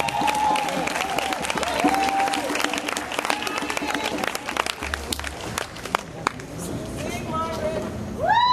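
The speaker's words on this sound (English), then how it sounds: "I need y'all to start clapping right now" Audience applause at a poetry tribute event, a steady wash of clapping that runs the whole time, with voices and a few cheers mixed in.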